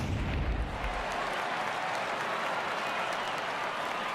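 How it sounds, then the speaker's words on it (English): Home crowd roars and cheers after a home run in the MLB The Show 18 baseball game, Orioles versus Royals, a loud, dense stadium wash that surges at the start and then holds steady. "No better way to get the home crowd into it right out of the gates."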